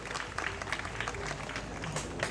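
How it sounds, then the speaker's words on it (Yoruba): A crowd claps steadily at an outdoor celebration of Benin's 65th independence anniversary in Pobè, with dense, even applause throughout and a faint voice underneath. "ẹ bá mi pàtẹ́wọ́"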